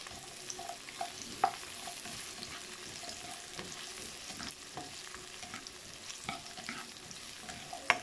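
Sliced onion rings fry for spicy corned beef, giving a soft steady sizzle with occasional sharp stirring clinks from a utensil against the pan, fairly quiet throughout.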